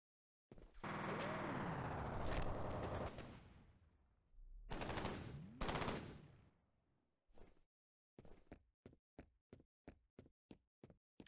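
Gunfire in the shooter game F.E.A.R.: long sustained bursts of automatic fire, a pause, another burst, then a string of separate evenly spaced single shots near the end, loud and close with no talking.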